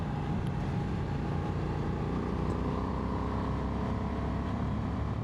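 Honda XL750 Transalp motorcycle engine droning steadily while riding, a constant close rumble mixed with wind noise.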